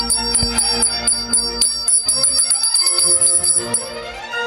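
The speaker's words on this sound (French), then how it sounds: "Il sonne une sonnette pour faire venir ces gens." A small hand bell is rung repeatedly and rapidly, its bright metallic chimes overlapping into a continuous jangling peal that carries on steadily without pause.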